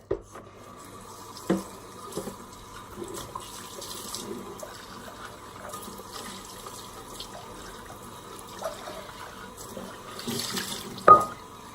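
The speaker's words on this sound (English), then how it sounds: "Let's give it another rinse." Tap water running into a sink as a burnt pan is rinsed, a soft steady trickle with a few sharp knocks and splashes of the pan against the sink.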